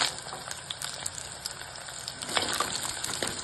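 Onion sizzles in hot oil in a pan after mustard seeds have popped, a steady close crackling hiss with scattered small pops for mor kulambu.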